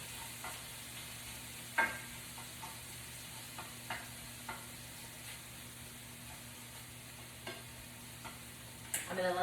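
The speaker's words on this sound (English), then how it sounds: "So let me give this a quick stir." Shrimp in a little olive oil in a skillet, quietly frying with a soft continuous hiss, punctuated by several light scrapes and taps of a utensil stirring, with a sharper clatter near the end; no speech.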